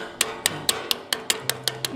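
Hammering on a bolt during repair work on a small electric utility vehicle: about nine sharp metallic taps in a steady, fairly quick rhythm, close and clear over a low background hum.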